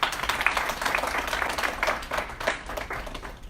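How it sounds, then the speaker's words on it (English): A live audience gives a round of applause at a public debate, dense clapping spread across the room and sustained at steady loudness throughout. "Can we have a round of applause for them?"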